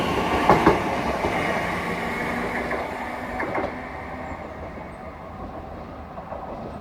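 A Class 387 electric passenger train rumbles past close by at a station near Oxford, a steady broadband roar with a few sharp clacks early on, slowly fading as it moves away.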